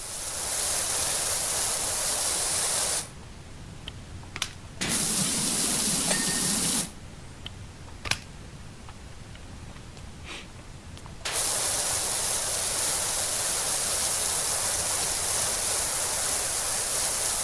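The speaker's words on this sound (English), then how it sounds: "Sometimes you just gotta power wash up inside the butt of a gnome." Pressure washer spraying a garden gnome in the PowerWash Simulator video game: a loud, steady hiss of spray that cuts out twice for a few seconds each, with quieter gaps, then resumes.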